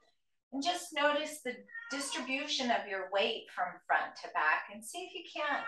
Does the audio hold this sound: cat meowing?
yes